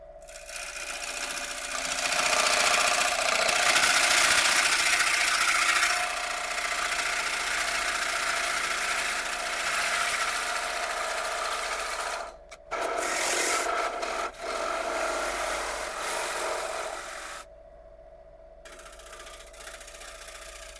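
Woodworking cutting tool being sharpened for clean inlay cuts, a steady close rasping rub that runs for long stretches, breaking off briefly a few times before resuming more quietly.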